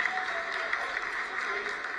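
Applause fills mission control during the Chandrayaan 3 lunar landing's vertical descent phase, a steady wash of many hands clapping with no break, with a faint tone and some voices mixed underneath.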